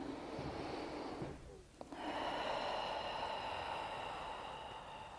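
A deep, audible breath drawn in during a pregnancy breathing exercise, a steady breathy rush that briefly drops away before swelling up again, close and alone.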